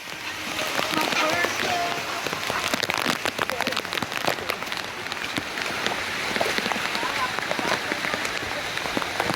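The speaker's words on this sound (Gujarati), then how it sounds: "એટલો વરસાદ આવેલો છે." Steady, dense patter of heavy monsoon rain drumming on a surface in the Girnar hills, loud and continuous throughout, with faint voices underneath.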